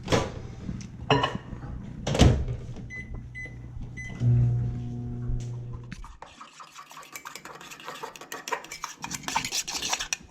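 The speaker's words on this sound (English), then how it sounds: "We're gonna put that in the microwave for about 30-45 seconds." A microwave oven hums steadily for a few seconds amid kitchen clatter, heating lobster, then shuts off, leaving faint rubbing and scraping sounds.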